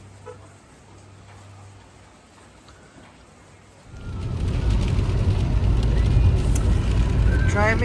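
A car drives on a cold, wet, foggy road toward the airport in Queenstown, a steady broadband rumble and tyre hiss that swells loudly about halfway through and continues close and constant.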